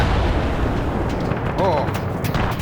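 Explosions boom through a video game firefight at a firing range, dull and low and partly distant, under a constant rumble, while a voice talks over them.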